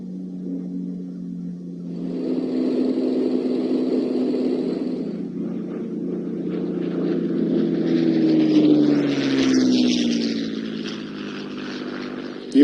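A Spitfire's piston engine at the Cosford airshow, a steady loud drone that swells as the aircraft passes, with a rising and falling pitch sweep near the end and no talk.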